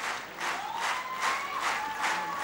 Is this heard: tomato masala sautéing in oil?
no